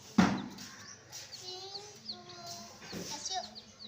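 Baby chicks brought home by a child chirp in short, high, repeated peeps, fairly close, with rustling and light household noise around them.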